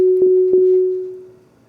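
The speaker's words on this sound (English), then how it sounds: "We have just the sine wave here." A steady, pure sine wave tone from a modular synthesizer oscillator holds at one pitch, with two soft clicks early on, then fades smoothly away.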